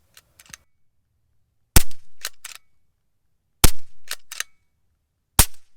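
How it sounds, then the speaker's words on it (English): Suppressed shots from an Airgun Technology Vixen .22 air rifle, three sharp muffled cracks spaced evenly apart, each followed by a short mechanical rattle of the action, close up with quiet gaps between. "Just listen to these couple of shots right here"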